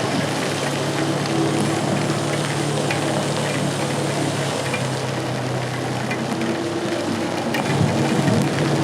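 Heavy rain pours steadily during a wet motorcycle race, a dense, constant hiss with a low rumble underneath, loud and unbroken throughout, with no speech.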